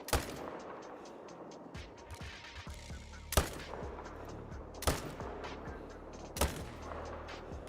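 Hunting rifle shots in Call of the Wild, several sharp, loud single cracks spaced a second or more apart over a quiet outdoor background, with brief speech between them.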